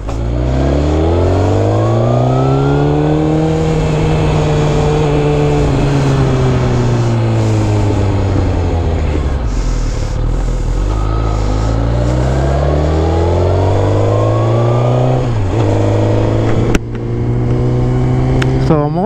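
Sport motorcycles, a Kawasaki 636 and a Suzuki GSX-R 1000, run up and down through revs, their exhaust note rising and falling in long sweeps, loud and close with wind buffeting over it.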